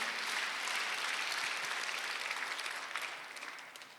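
A church congregation applauding during a Sunday worship service, dense sustained clapping from many hands that fades out toward the end.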